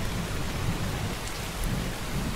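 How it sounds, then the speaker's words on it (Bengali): Steady heavy rain falls with a low rumble of thunder underneath, a dense continuous wash of sound, close and unbroken, with no voices. "বৃষ্টি নামলো যে"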